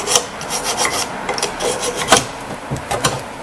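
A metal file rasps rust off a brake bracket on a 2008 Toyota Highlander, with close, rhythmic scraping strokes repeated about twice per second.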